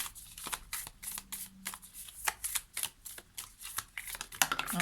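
Tarot cards being shuffled by hand, close and crisp, a steady series of rapid riffling bursts and soft slaps with no voices.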